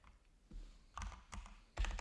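Keystrokes on a computer keyboard come in a few separate bursts of clicks, close and fairly soft, with a sharper cluster at the end and quiet gaps between.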